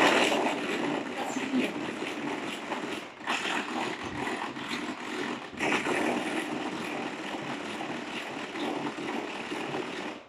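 An electric mixer beats two eggs for a tuna tart, a steady close whirring drone with a brief dip midway, running alone without talk.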